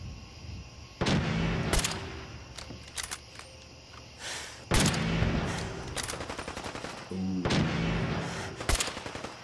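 Gunfire in Fallout 4, loud single shots and rapid bursts spread through a fight, close and punchy, with quieter gaps and short lulls between volleys.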